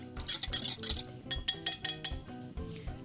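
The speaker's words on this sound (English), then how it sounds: "whisking here." A whisk beats a wine and mustard sauce in a bowl, giving a quick series of metallic clinks and scrapes in an uneven rhythm, fairly close and with no one talking.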